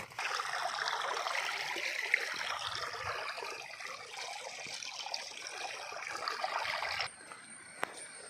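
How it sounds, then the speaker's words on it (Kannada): A waterfall in dense forest pours as a steady, broad rushing of water, moderately distant, before the sound drops abruptly near the end, with no talking. "ನೋಡೋಣ ಇವಾಗ ಫಾಲ್ಸ್ ಯಾವ ರೀತಿ ಹರಿತು ಅಂತ ಹೇಳ್ಬಿಟ್ಟು ನಾನು ನಿಮಗೆ ತೋರಿಸೋದು ಪ್ರಯತ್ನವನ್ನು ಮಾಡ್ತೀನಿ"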